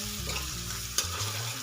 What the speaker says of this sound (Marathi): हे सर्व मसाले आपल्याला तेलामध्ये मिक्स करून घ्यायचे.